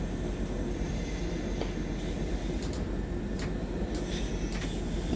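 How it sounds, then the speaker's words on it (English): German regional train in the Train Sim World 4 game on the Bremen–Oldenburg line, a steady loud rumble with faint clicks and hiss as it brakes toward a stop, no voices. "The Germans can stop a train"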